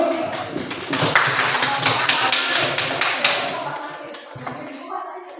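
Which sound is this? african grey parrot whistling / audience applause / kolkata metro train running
audience applause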